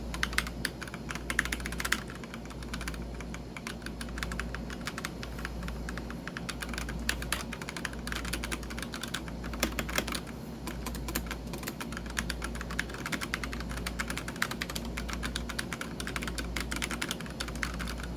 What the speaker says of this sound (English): a little bit of demonstration of me tapping the keyboard, and you guys can hear how soft it sounds